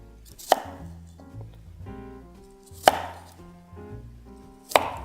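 A knife chops through vegetables on a cutting board, trimming off tough ends and then slicing pieces at an angle for chicken with black bean sauce, three sharp, widely spaced thuds with quiet background clatter between them.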